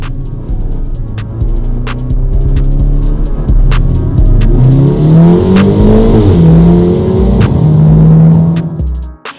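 Stage 2 tuned BMW G20 330i accelerating hard, loud close engine revving steadily upward through the gears with rising pitch sweeps and brief shift dips, ending in a sudden drop-off.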